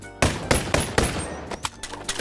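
A quick string of sharp, loud gunshots striking a character in a video game, several close cracks spaced unevenly over a couple of seconds with no talking.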